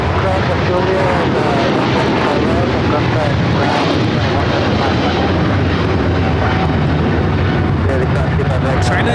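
A China Eastern Airlines Boeing 777-300ER roars down the runway on takeoff at LAX, a loud, steady, broadband jet thunder with no pause throughout.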